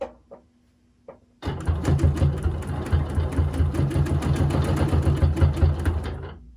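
A sewing machine stitches steadily through free motion quilting on a pillow, a rapid mechanical chatter that runs for several seconds after a couple of brief clicks. It is close and fairly loud, and no one talks over it.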